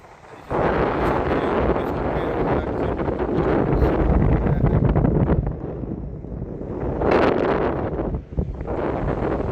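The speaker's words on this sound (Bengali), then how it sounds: "অসম্ভব হাওয়া।" Strong wind blows at Bakkhali beach on the Bengal coast, roaring and buffeting hard against the microphone in a loud, unbroken rush that briefly eases and then surges again.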